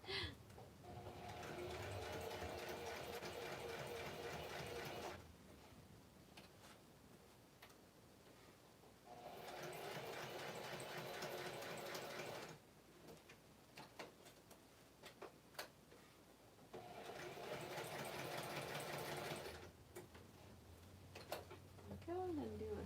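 Sewing machine stitching across scrap craft embellishments in three steady bursts of rapid mechanical ticking, separated by quieter pauses with faint room sounds.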